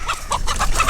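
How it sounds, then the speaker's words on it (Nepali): A chicken clucks in a quick run of short, close calls, about five in a second, with no talk over it. "कस्तो कुखुरा हो यो"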